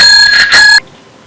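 A bright ringing bell sound effect, two quick loud rings with shimmering overtones that stop abruptly, followed by near silence.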